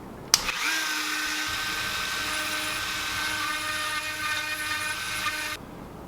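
Dremel rotary tool spinning up and cutting with a steady, high-pitched whine that holds for about five seconds at close range, then stops abruptly.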